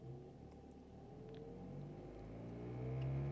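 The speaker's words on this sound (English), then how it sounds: "I'm going to help it along by giving it a few revs" A Vauxhall Corsa D engine hums steadily and gradually builds in pitch and loudness as it revs up toward about 2,000 rpm near the end, with no voices.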